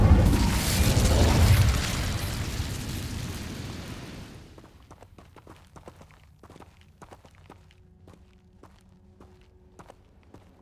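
An Incendio fire spell in Hogwarts Legacy: a loud fiery whoosh and rumbling burst that fades over about four seconds, then soft footsteps and light ambient ticks.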